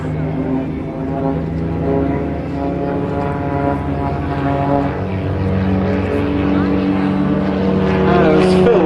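A Titans display team XA42 aerobatic propeller aircraft, flying an air display at Abingdon, gives a steady, loud droning engine hum with harmonic tones that shifts slightly in pitch over its length, while a commentator talks over it throughout.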